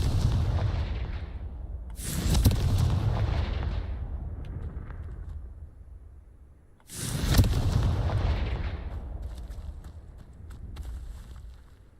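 Confringo spell blasts in the Hogwarts Legacy game, two heavy booming explosions a few seconds apart, each with a sharp crack and a long rumbling decay, loud and close with nothing else over them.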